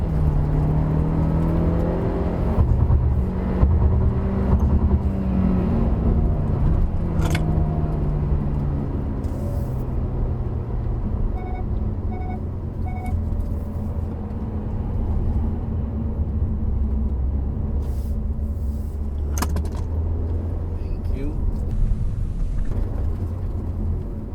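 Inside a 2021 Hyundai Kona 1.6 Turbo N-Line on the road, a steady engine hum and tyre roar rises and falls through gear changes, with a few faint clicks, continuous and close, no talking.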